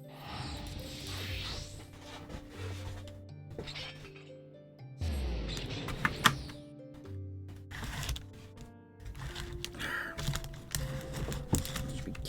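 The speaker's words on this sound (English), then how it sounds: "Keyboard." Keys clatter on a computer keyboard in irregular bursts of close, crisp clicks with pauses, over quieter game sounds.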